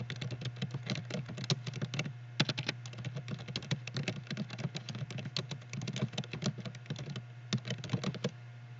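Rapid typing on a computer keyboard, close and fairly quiet, with dense bursts of key clicks broken by short pauses over a low steady hum.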